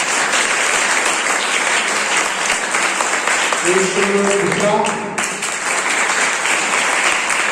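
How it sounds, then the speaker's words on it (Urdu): Audience applause at a school art prize ceremony, dense sustained clapping from a crowd throughout, with a voice speaking briefly over it. "ایک ارسلان، ان کے لیے تالیاں بجائیں"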